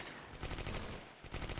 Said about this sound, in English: We're just gonna open suppressive fire onto them.